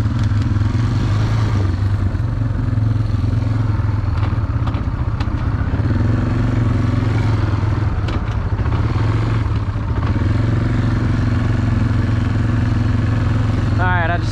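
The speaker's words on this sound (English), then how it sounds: "Exhaust sounds kind of weird on it." A motorcycle exhaust drones loudly and continuously while riding along the road, a deep steady engine note with wind rush and occasional clatter, slightly odd-sounding.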